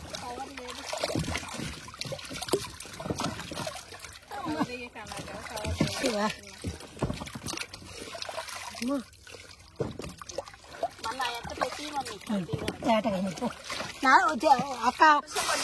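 Water splashes and trickles in bursts as freshly harvested sweet potatoes are rubbed and rinsed, with a person talking throughout over the washing.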